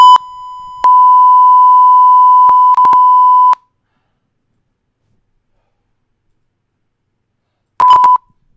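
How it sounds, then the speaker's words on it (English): Loud, pure electronic censor bleeps: a short tone, then a long sustained beep of a few seconds, a couple of quick chirps, then one more brief beep after a silence. "I hate this new beep sound that you have"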